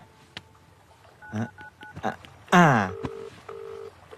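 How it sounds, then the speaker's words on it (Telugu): A series of dialing tones beeps on a phone, followed by a short burst of voice-like sound, then two long ringback tones. "రింగ్ అవుతుంది"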